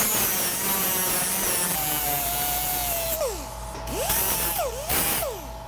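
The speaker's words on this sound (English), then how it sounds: "I just got a little flapper here, and I'm just kind of softening that edge around here" Small flap disc on an angle grinder softening the edges of cut holes in metal, a steady whining grind with pitch dips and swoops as the disc loads and frees up, loud and close with no talking.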